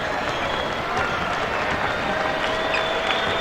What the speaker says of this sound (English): The Blazers crowd starting to applaud a fine performance by the home team.